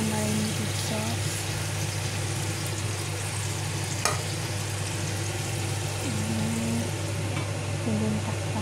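Chicken midwings fry in marinated sauce in a pan with a steady, continuous sizzle and light stirring, a constant low hum underneath and a faint voice in the background.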